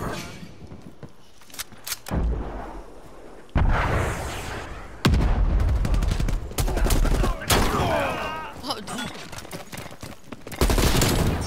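Gunfire from the video game Call of Duty Cold War, with an XM4 rifle firing loud, close bursts in several volleys broken by short pauses, and brief game sound effects between them.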